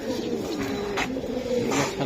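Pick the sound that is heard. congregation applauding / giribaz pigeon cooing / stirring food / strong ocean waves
giribaz pigeon cooing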